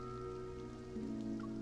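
Gentle rain falls in the game Love and Deepspace, a soft, continuous patter that stays faint and even beneath a low, sustained background tone.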